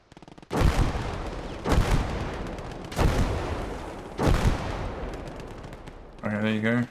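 Explosion in the Gates of Hell mission editor: four heavy blasts roughly a second apart, each a loud boom that tails off into rumbling debris, followed by a short tonal game sound at the end; no talking.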